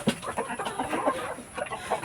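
Rhode Island chickens clucking on a farm, a busy run of soft, close clucks and short calls overlapping continuously, moderately quiet with no talk.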